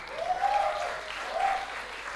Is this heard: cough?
no